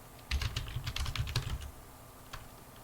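A short burst of typing a systemctl command on a computer keyboard, a dozen or so close, light key taps in quick rhythm, followed by a lone keystroke after a pause, no voices.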